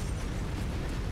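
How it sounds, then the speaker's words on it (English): Mechs and vehicles blow up in Mechwarrior 5, a dense, rolling wall of booming blasts that stays loud and continuous for the whole moment. "All the explosions."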